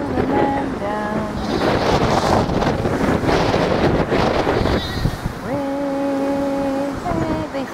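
Strong wind in Holland buffets the microphone with a constant loud rushing and roaring, while people talk over it at the start and end.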